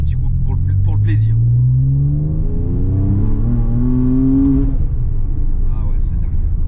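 A Porsche Cayman with TechArt modifications revs up loudly, pitch climbing steadily over several seconds before dropping off, with brief voices at the start.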